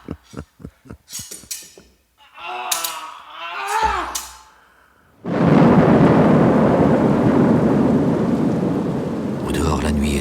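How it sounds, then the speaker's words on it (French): A night thunderstorm with rain: after some sharp knocks and a short stretch of speech, thunder cracks and a loud, steady downpour of rain takes over, close and dense. "Au dehors, la nuit est tombée. La tempête se lève."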